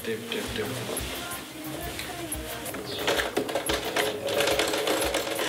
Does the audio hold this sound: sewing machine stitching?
yes